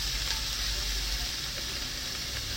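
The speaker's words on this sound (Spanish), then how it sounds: "Después de poner la mantequilla, vamos a poner nuestra cebolla picadita en trocitos" Chopped onion frying in butter, giving a dense, even sizzle close up that holds steady for a few seconds.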